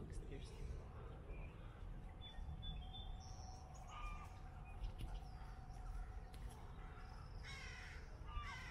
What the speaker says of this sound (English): These are baby geese.